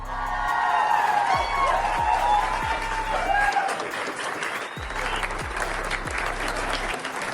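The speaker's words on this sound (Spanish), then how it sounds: "El fin de una época del máximo tribunal del país fue acompañado de aplausos para los ministros" Judicial workers in the corridors of Mexico's Supreme Court applauding and cheering the departing justices, a loud continuous wash of clapping with whoops and crowd voices, plus rhythmic low thumps underneath.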